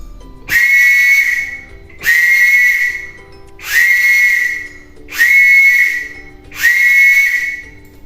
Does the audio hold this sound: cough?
no